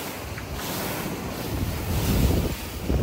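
Ocean waves and strong wind on the deck of a racing sailboat in the Vendée Globe after a storm, a loud continuous roar of wind buffeting the microphone over rushing, surging surf.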